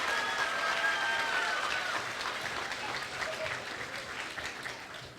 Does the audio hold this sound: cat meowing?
no